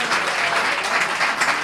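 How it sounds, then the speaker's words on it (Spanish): An audience at a Pint of Science talk evening in Valladolid applauding speaker Alfonso, a loud, dense burst of clapping that fills the whole moment. "Le damos otro aplauso a Alfonso."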